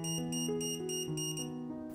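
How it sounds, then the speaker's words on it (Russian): A ZOKOUN GF120 green laser level sounding its tilt warning, an electronic alarm of rapid repeating beeps that shift in pitch, loud, close and continuous with no talk. "При наклоне смотрим, начинает сигнализировать о том, что есть отклонение от уровня"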